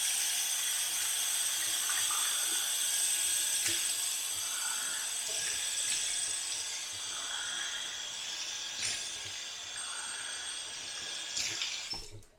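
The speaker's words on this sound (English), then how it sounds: "Gonna get the face washed off, we'll get the splash on" Water running from a sink tap and splashing as a face is washed after a shave, a steady faucet hiss with a few louder splashes, close and continuous with no talking.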